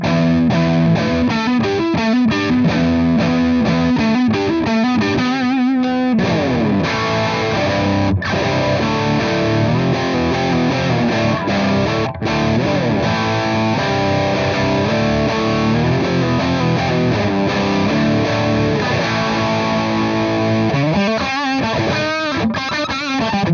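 An electric guitar played through an Orange OR15H amp head at 15 watts gives a loud, thick, distorted tone with sustained chords and riffs, a brief break near six seconds, and continuous playing without talk.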